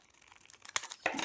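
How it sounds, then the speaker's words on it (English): Paper craft trimmed at the end, a few brief crinkling and cutting sounds close up that build to a louder rustle in the last moments. "I think I'll just trim the end of this because it's a little bit long"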